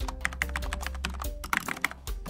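Typing on a Corsair K68 mechanical keyboard with Cherry Red switches, a quick close run of light clacking keystrokes with a few louder thuds, no voices.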